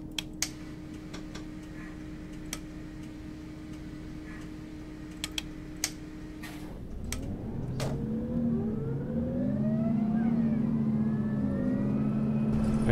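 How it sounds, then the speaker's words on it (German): Simulated Mercedes-Benz O530 city bus diesel engine in Omsi 2, a steady drone that drops out halfway and is replaced by a rising, whistling turbocharger whine over a louder engine note, with scattered ticks early on. "Vielleicht da im Hintergrund ganz den Turbo säuseln"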